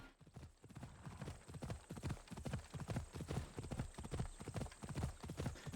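A fire horse in Assassin's Creed Odyssey trots along with a brisk, regular clip-clop of hooves, loud and close, the rhythmic beats continuing steadily throughout.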